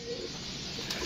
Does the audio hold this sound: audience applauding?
no